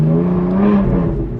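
A BMW M4 engine hums and revs with a strong harmonic drone that rises slightly and then eases off, heard close from inside the car for a brief moment.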